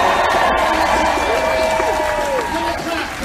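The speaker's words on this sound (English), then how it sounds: "Give them a clap." Crowd noise at a campaign rally in Harrow as the audience claps for the candidate's campaign team, a dense, loud wash of cheering and applause with voices mixed in throughout.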